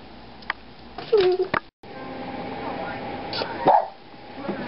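A dog gives a few short yips and barks at night, close and fairly loud, with a person talking in between and a brief dropout in the middle.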